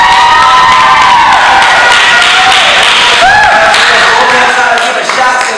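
A studio audience claps, cheers and shouts loudly in a continuous roar, with excited voices rising above the dense clapping.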